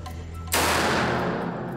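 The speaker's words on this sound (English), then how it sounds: "They'll fire the precious 100-year-old Buckingham rounds remotely, just in case they explode in the rifle." A rifle fires a 100-year-old Buckingham round remotely. It is a single loud, close shot with a sharp crack and a long rumbling tail that fades only slightly over the next second.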